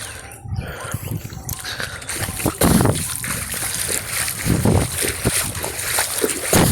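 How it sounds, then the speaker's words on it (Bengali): Floodwater flowing across a road in a waterlogged neighbourhood, a loud, close rush and splashing, with a voice speaking intermittently over it and broadband noise throughout. "এই যে ওই দিক থেকে এইদিকে জল যাইতেছে"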